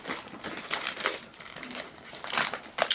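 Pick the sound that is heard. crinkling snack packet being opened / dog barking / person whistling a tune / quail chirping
crinkling snack packet being opened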